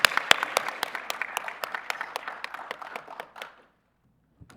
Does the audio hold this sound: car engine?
no